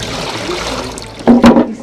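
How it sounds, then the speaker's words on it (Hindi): Water drains through cloth laid in a wooden mold, starting as a soft steady trickle and then bursting into a couple of louder splashing gushes near the end. "उसमें हम ये डाल देंगे तो पानी किनारे चला जाएगा सारा"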